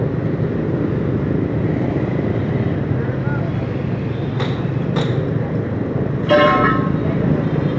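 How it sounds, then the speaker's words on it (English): Busy street traffic in Ho Chi Minh City, a continuous roar of motorcycles and vehicles with several short horn toots near the end, no speech. "These roads get pretty noisy"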